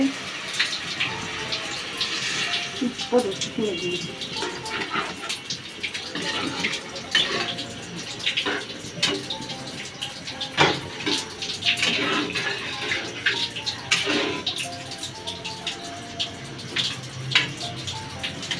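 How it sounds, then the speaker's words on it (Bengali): Water splashes and pours into a pot of curry in uneven bursts, with faint clinks and kitchen clatter around it. "এখন এই যে পরিমাণ মতো ঝোলের পানি দেওয়া হইতেছে"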